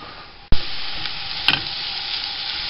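Onions frying in hot oil in a pan while being stirred, giving a steady close sizzle with a sharp scrape of the utensil near the start and a brief clatter midway.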